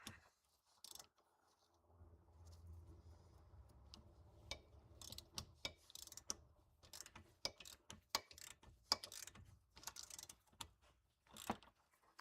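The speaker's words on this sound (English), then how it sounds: "Extend-O-Matic ratchet" A Harbor Freight Extend-O-Matic ratchet loosens a nut on an MK4 Volkswagen GTI, its pawl giving quiet, crisp clicks in irregular short runs over a faint low hum.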